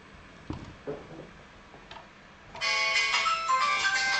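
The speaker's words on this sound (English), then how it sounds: "And of course it's my phone ringing" A mobile phone ringtone starts partway through and plays on, melodic and fairly clear, after a few soft ticking handling sounds.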